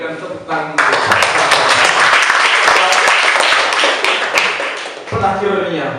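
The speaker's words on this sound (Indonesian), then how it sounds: "Sekali lagi kita berikan tepuk tangan." Loud, close applause from an audience after a talk, rising abruptly into a dense burst of clapping that lasts several seconds, with voices audible just before it starts and again as it ends.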